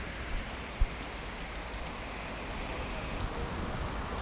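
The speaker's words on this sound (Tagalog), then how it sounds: "Lakas ng ulan, super." Heavy rain pouring steadily in Singapore, a dense, even hiss of falling water with a faint thump near the start and no voices.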